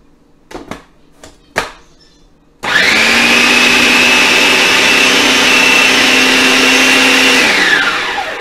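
A food processor chops a falafel mixture, starting up after a few soft knocks and running as a loud, steady whir for several seconds before winding down.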